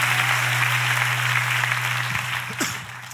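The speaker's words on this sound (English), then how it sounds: "let's clap our hands one more time, and let's let the Lord know we're ready" A church congregation claps together in a dense, sustained wash of applause, with a steady low organ-like note held underneath before the clapping thins toward the end.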